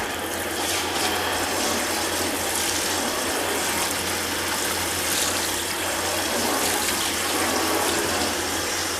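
Cool tap water runs continuously while a doll is washed, a steady close splashing stream with faint clicking from handling underneath.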